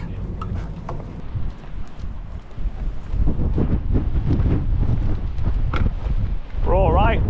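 Strong wind of about 30 mph gusts around a wild mountain camp during a storm, a steady loud roar with buffeting microphone noise throughout and a brief whistling tone near the end, with a person talking over it.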